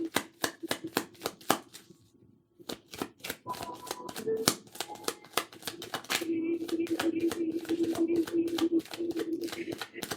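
Rapid, crisp flicking and riffling of tarot cards being shuffled, in repeated bursts with short pauses, accompanied by a steady low hum in the background.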